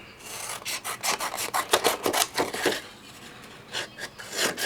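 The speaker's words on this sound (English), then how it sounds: "So I am going to trim my paper down just to begin with." Pearlescent craft paper is trimmed with a rasping, scraping stroke repeated in a quick irregular series, close and fairly loud, with brief pauses between bursts and no talking.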